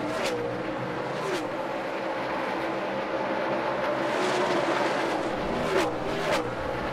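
NASCAR Sprint Cup stock cars racing at Richmond, a loud continuous engine roar with rising and falling revs as cars pass close by, sustained throughout.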